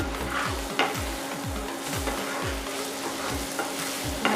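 Prawns tumble into spiced masala fried in oil until the oil separates, for doi chingri. Steady close sizzle runs throughout with repeated low scraping stirs about every half second, and a few sharper clinks from the pan.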